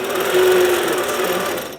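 Sewing machine running steadily while ruler work crosses a thick quilt seam, a continuous close mechanical whir with a slight pitch dip as it slows to climb over the bump, alone without talk.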